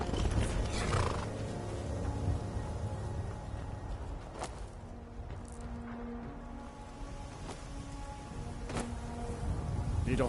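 A horse in a video game neighs and snorts while its hooves clop softly, mixed with a low game ambience and occasional sharp knocks.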